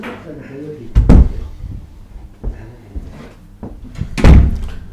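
Interior doors in a renovated house near a bathroom and communal corridor being shut one after another, giving two heavy, close thuds about three seconds apart, with someone talking between them.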